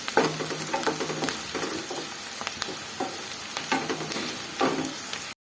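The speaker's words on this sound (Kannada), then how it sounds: "ಇದು ಸ್ವಲ್ಪ ಬ್ರೌನ್ ಕಲರ್ ಆಗೋವರೆಗೂ ಸ್ವಲ್ಪ ನಾವು ಈ ಥರ ಹುರ್ಕೊಬೇಕು" Ingredients for gojju fry in hot oil until browned, with a steady sizzle, repeated close scraping stirs and clinks against the pan, then a sudden cutoff at the end.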